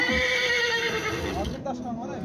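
A Karabair horse at a horse market gives a loud, clear whinny with a rising and falling tone, close by, with market chatter and voices around it.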